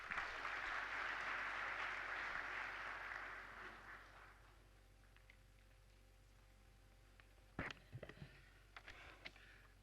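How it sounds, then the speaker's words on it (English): An audience applauds as India's Ambassador to Thailand is called to the podium at an evening event. Steady clapping fills the first four seconds, fades out, and is followed by near-quiet with a few faint clicks. "Please give him a big round of applause."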